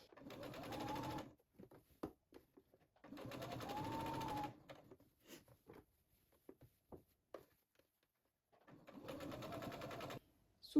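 A sewing machine stitches close to the edge of fabric while understitching a lining: three quiet, steady runs of rapid whirring, each lasting a couple of seconds, separated by pauses with soft handling clicks.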